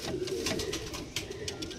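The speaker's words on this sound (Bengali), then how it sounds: "ধাড়ি পায়রা" Adult pigeons of a fancy breed offered for sale coo softly and steadily, a low murmuring under brighter, scattered noise from other birds nearby.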